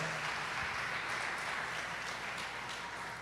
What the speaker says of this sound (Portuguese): Você pode aplaudir o poder do Evangelho?